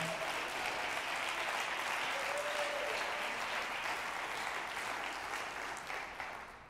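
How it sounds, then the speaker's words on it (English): A church congregation claps hands in praise during a Sunday service, a sustained even roar of many hands, steady and full, softening slightly near the end. "Somebody clap your hands and praise him right now."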